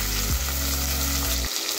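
Crushed ginger and garlic with spices sautéing in a pan for masale bhat, a close, steady sizzle with a low droning hum underneath that cuts out near the end.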